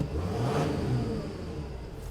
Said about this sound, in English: I'm gonna turn the engine off.